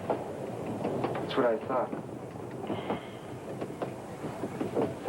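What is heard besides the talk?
train moving along the rails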